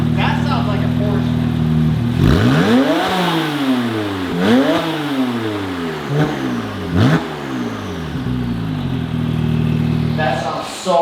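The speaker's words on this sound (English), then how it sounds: "That sounds like a Porsche." Porsche 911 Turbo, straight-piped with a custom 3-inch X-pipe, revs hard in several loud, rising and falling bursts, each climb ending in a sharp drop, with the engine idling between pulls.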